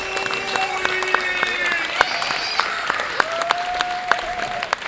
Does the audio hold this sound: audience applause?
yes